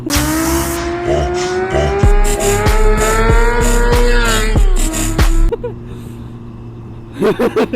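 A Yamaha Fazer 600 (FZ6) motorcycle revs hard and roars past nearby, its engine note climbing then dropping sharply as it goes by, leaving quieter sounds afterward.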